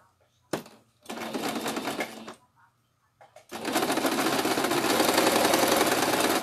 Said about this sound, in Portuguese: A gente vai costurar e vai deixar essa parte aqui aberta